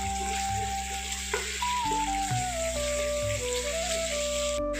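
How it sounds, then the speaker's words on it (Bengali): A ground paste of ginger, tomato and green chili fries in oil with a steady broadband sizzle, while a wavering tonal hum sounds underneath. "তাটাকে ভালো করে কষে নিচ্ছি।"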